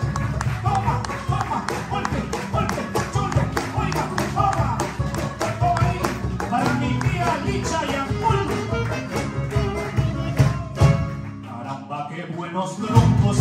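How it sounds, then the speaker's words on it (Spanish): An audience claps at a live Peruvian music performance, a sustained burst of close applause with scattered voices, fading near the end. "por favor, aplauso para ellos."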